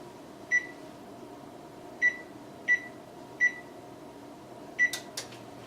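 An oven control panel beeps as it is set to preheat, five short single tones spaced irregularly over a quiet room hum, followed by a few faint clicks.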